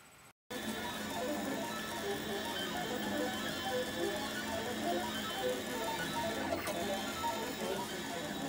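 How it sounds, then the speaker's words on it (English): A 3D printer prints a customized thimble, giving a steady, faint whir of stepper motors with soft ticks and rhythmic movement after a brief silence at the start. "We're printing a customized thimble."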